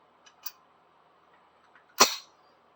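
A single sharp gunshot from a Norinco 54 pistol firing .380 ammunition, a short loud crack with a brief tail, preceded by faint metallic clicks.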